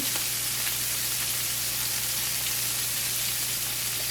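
Scallops searing in a non-stick pan under a splatter guard, a dense, even hiss of sizzling fat with faint pops, steady and close with no talking.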